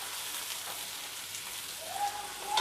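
Onion frying in oil in a pan until lightly browned, for a spicy soybean curry: a steady, close hiss of sizzling with faint crackles, continuous and even throughout.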